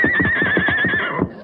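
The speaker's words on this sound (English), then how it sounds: "Then hold the horse for him, Palmer." A horse whinnies loudly and close up in a shaky, rapidly pulsing call that lasts about a second before it trails off.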